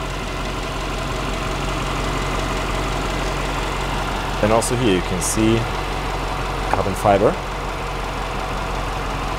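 A Brabus GLS 800 engine with 800 horsepower, already hot, idles with a steady low rumble throughout, while someone speaks briefly over it twice.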